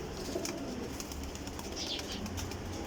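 Flying pigeons kept in a loft coo softly and repeatedly close by against a steady background hum, with occasional faint wing flutters and no talking.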